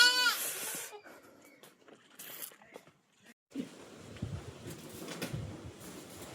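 Goats kept on a farm in a cashew orchard bleat loudly and close at the start, then fainter rustling and shuffling sounds follow.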